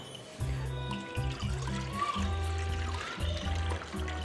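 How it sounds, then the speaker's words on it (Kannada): Water poured from a measuring vessel into half a kilo of rice in a pot, heard as a close splashing pour in a few bursts with short pauses between them and no talk. "ಈಗ ಇದೇ ಅಳತಿಂದ ನಾನು 2 ಸಲ ನೀರು ಹಾಕ್ಕೊತೀನಿ"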